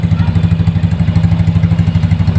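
A Mio i 125S motorcycle fitted with an Akrapovič Hexatip muffler, silencer on, idles up close with a low, even, rapidly pulsing exhaust throb that holds steady throughout.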